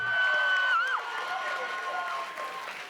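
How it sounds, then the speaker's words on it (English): Classroom audience applauding a student presenter, a brief burst of clapping over a few seconds with some voices mixed in. "Give her a round of applause, everybody."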